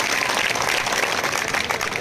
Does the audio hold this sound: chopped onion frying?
no